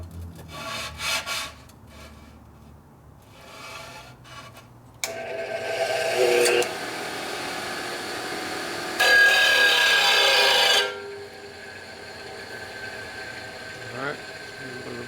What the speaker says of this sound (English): Alright, a little bit of a grind.